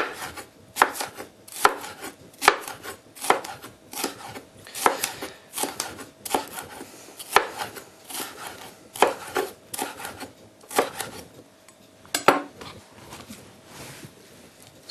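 A knife chopping red bell pepper on a board, a run of sharp close knocks in uneven rhythm with brief pauses, then a few more cuts near the end, no talk.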